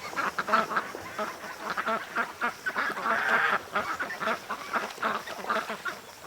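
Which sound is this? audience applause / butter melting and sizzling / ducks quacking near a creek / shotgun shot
ducks quacking near a creek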